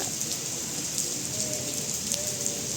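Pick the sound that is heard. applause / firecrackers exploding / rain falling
rain falling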